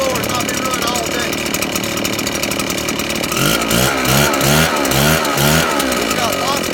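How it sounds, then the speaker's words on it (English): A Red Max EBZ 8500 backpack blower runs after a cold start with a loud, steady two-stroke roar, its engine surging in a pulsing rhythm partway through while someone talks over it. "On a cold start. The blower has not been running all day."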